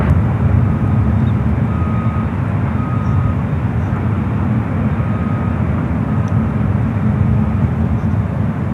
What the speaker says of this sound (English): The Dreamliner now crossing over 1 left.